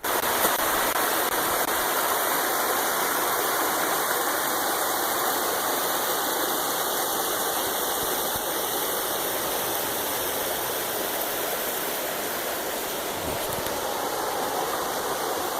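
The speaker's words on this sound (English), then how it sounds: "this is my last river crossing down here at Dolly Sods" A river flows steadily at Dolly Sods, its broad rushing wash close and constant from start to end with no talk over it.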